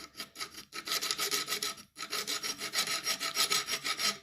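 Close, rhythmic rasping of a metal file in quick strokes on a ship auger drill bit, removing a burr from its cutting face, broken by two brief pauses, with no voices.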